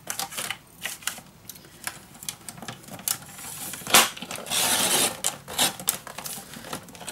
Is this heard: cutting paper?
yes